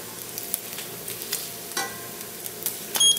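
Garlic Spam slices fry in a pan on a stove top, giving off a soft, steady sizzle with small crackling pops and a light scrape near the end.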